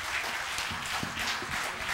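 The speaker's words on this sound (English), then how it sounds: "Give them a hand clap." A Baptist church congregation gives a round of hand claps during a Sunday morning service, a dense, steady patter of applause heard throughout, with no voices over it.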